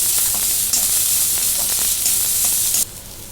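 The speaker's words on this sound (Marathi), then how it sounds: "कोबी कांद्याची पात परतून घेऊ" Cabbage and spring onion greens are sautéed in a hot pan for Manchurian. A loud, close, hissing sizzle carries throughout, with occasional stirring scrapes, and drops to a quieter hiss near the end.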